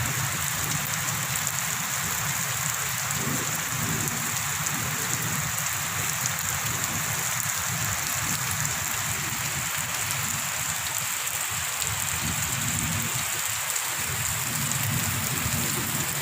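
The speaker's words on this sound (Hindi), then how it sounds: "बारिश बड़ी तेज़ हो रही है" Heavy rain pours steadily over a village, a dense, continuous hiss of drops hitting surfaces with a faint low rumble underneath, unbroken throughout with no voices.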